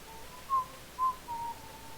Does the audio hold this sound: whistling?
yes